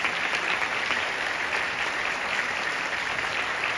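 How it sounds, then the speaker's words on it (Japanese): An audience at a Japanese dance troupe's anniversary performance claps steadily, a dense, even wash of applause throughout with no talking over it. "もう一度大きな拍手をお願いいたします"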